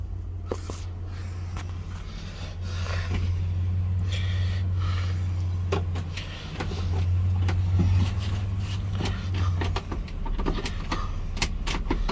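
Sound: repaired truck engine running on test drive

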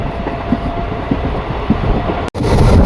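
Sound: new local train running from Rajkot to Porbandar

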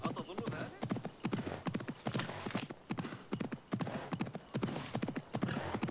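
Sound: horse galloping in video game Assassin's Creed Mirage

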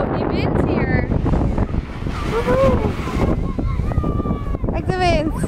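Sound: wind at the beach

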